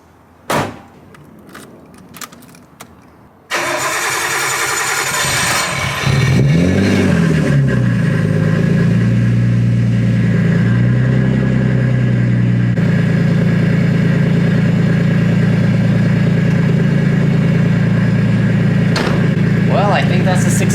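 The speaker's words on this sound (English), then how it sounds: "Let's go fire up the car." A Nissan R32 Skyline engine cranks and fires up after a few quiet knocks, rises through a couple of revs, then drops into a loud, steady idle close by.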